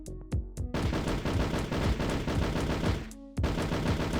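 Gunfire in a Doom-style FPS video game, a few single shots followed by a long rapid automatic burst and a final shot, sharp, close and loud with no talk.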